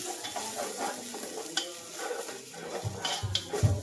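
Crushed ginger and garlic frying in hot oil in a home kitchen pan, a steady close sizzle with a spoon stirring and scraping through it, no one talking.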